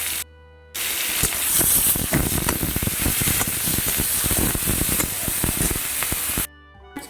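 Onions frying in a pan with whole cardamom, cloves and cinnamon for an egg curry, a loud continuous hiss and crackle with stirring clicks throughout, cut off by short silent gaps at the start and end.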